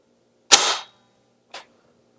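An Umarex Steel Force BB gun fires a single sharp, close shot followed by a fainter short click about a second later, against near silence.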